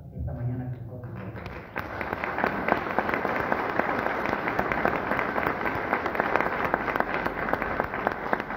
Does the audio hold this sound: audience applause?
yes